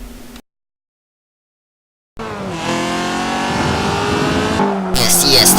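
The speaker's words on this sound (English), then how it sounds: "I got the E30 M3, the OG M3, the cool car, and I got to drive it." Engine of a BMW E30 M3 revs and drones steadily, rising in pitch as it accelerates, loud and close, after a brief silent gap, with a harsher burst near the end.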